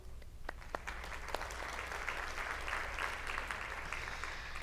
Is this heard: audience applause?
yes